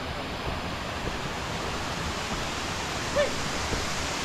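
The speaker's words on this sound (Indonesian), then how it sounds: "bagus banget nih air terjunnya." A waterfall on Mount Pangrango along the Cibodas trail roars as a constant broadband rush of falling water, steady and close, with no voices.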